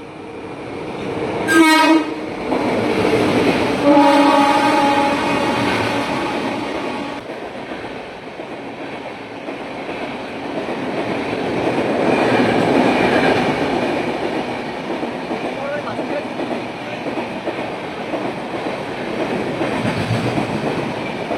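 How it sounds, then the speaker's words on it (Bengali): A train passes through platform 5 at Panskura station, its horn blaring near the start, then a long rolling rumble of wagons and wheels clattering steadily and loud throughout. "একটি ট্রু ট্রেন পাস করবে এই মুহূর্তে"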